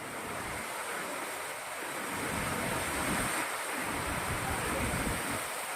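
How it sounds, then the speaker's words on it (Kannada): Heavy monsoon rain pours down steadily in coastal Dakshina Kannada near Saligrama, a dense, loud, continuous roar like a small waterfall, with no talking. "ಬಹಳ ಅಂದ್ರೆ ಬಹಳ ಮಳೆ ಬರ್ತಾ ಇದೆ"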